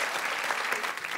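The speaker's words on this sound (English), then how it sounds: "I quite like the white noise of clapping" Brief burst of studio audience clapping on a TV chat show, a dense hiss of many hands at steady moderate level, alone without talk.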